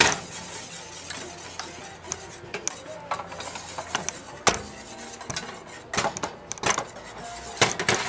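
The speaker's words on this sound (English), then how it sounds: "I'm just stirring it still so it doesn't burn" A spoon stirs chocolate pudding in a pot on a stove, with soft scraping, faint sizzling and scattered metal clinks against the pot, heard up close.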